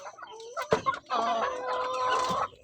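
KUB chickens in a raised coop on a small backyard farm, clucking and chattering close by, with one sharp squawk early and then a steady run of busy, overlapping calls.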